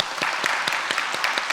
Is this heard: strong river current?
no